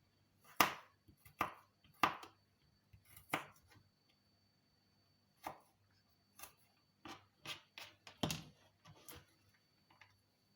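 Fresh ginger is chopped into small pieces with a knife on a board: a dozen or so crisp, close taps in an uneven rhythm, separated by short pauses, with no talking.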